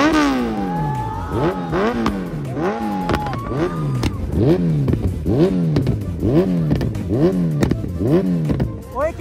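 A motorcycle on a snowy trip revs its exhaust again and again, each throttle blip rising and falling in a rapid repeated pattern, loud and close, with faint voices around it.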